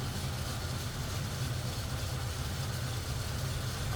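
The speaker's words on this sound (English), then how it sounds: "Amazing how quiet that engine is." A smooth, quiet 1953 Ford Customline sedan engine idles steadily with a low, even rumble and no voices.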